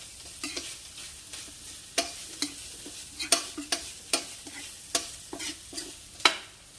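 Crocodile meat and vegetables are stir-fried in a pan Isan-style, with about fifteen rhythmic scraping strokes of a utensil over a quiet, continuous sizzle.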